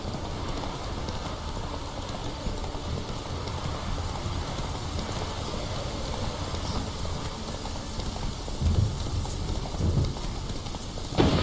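Roach, the horse in The Witcher 3, trots with a steady clip-clop of hooves over a continuous rain-like wash, moderately loud and alone, with a few heavier thuds near the end.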